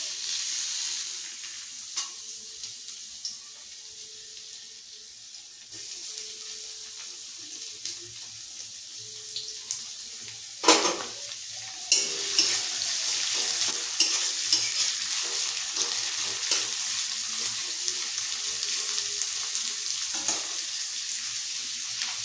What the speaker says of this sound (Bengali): পেঁয়াজটা এবার ভেজে তুলে নেবো আলু মাখার জন্য